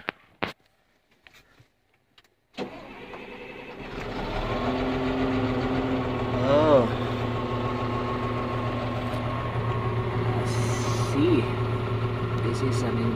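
A Cat 950H wheel loader with a misfire or low power fault cranks and catches, then its diesel settles into a loud, steady idle with a slight rise, after a few clicks and near-silence.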